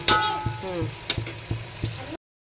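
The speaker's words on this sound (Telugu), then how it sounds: "వేగిపోయినాయి కదా ఉల్లిపాయలు." Onions frying in a pan for chicken biryani, a close steady sizzle punctuated by regular spatula knocks and scrapes, ending abruptly in silence.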